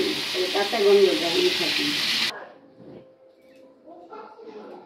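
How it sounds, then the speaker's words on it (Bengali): Potatoes for mutton curry fry in a pan with a loud, steady sizzle that stops abruptly partway through, after which a voice talks over faint background sounds. "মাটনের আলু আলাদা ভেজে নিচ্ছ"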